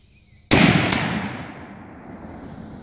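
A single sharp, loud gunshot firing an armor-piercing round at a swinging steel target outdoors, a sudden blast with a long echoing decay.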